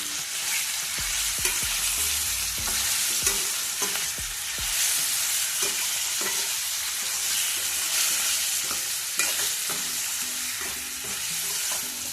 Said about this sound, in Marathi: जे मॅरिनेशन केलेले आता तेल पण छान तापले त्याच्यामध्ये ॲड करते मी. कमी गॅस करते म्हणजे छान फ्राय करायचं याच्यामध्ये.